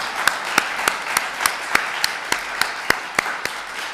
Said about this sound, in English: I would like you all to give him a round of applause for everything he's done.